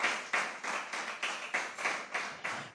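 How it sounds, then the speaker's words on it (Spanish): A church congregation claps hands as an offering to the Lord, a steady rhythmic beat of about nine claps, moderately loud and without talking. "Dale una ofrenda de palmas al Señor"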